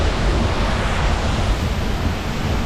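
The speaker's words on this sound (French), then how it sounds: "On se prend une grande cascade dans la gueule." A large waterfall in Iceland roars as a constant, loud, broadband rush of falling water, steady and close with wind buffeting, no voices.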